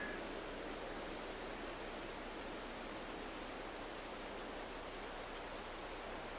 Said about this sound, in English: I think this rain has got my sinuses all...